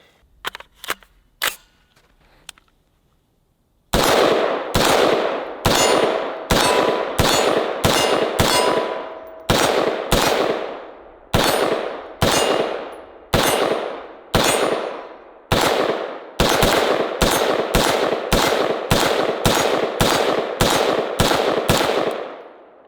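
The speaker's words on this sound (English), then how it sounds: "So let's shoot it some more." An AR-style rifle fitted with an H2 buffer fired in long, rapid strings of loud, sharp shots with brief pauses between bursts, following a few quieter clicks and clanks of handling at the start.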